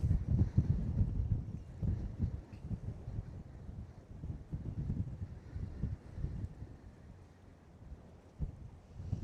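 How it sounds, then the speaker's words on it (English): High wind at Port Canaveral during a cruise ship sail-away roars and gusts steadily across the microphone, rumbling low and uneven throughout with no talk. "Yep, there's the wind."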